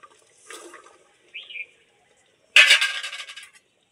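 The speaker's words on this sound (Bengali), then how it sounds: "এবার আমি ডাঁটাগুলোকে দিয়ে দেবো।" Moringa drumsticks drop into a pot of boiling broth, a short wet splash and slosh after a few faint clinks and soft kitchen sounds.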